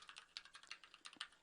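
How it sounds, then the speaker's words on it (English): Typing on a computer keyboard while filling in a business letter in Word, with a quick irregular run of soft key clicks that sound close but faint. "we can start typing"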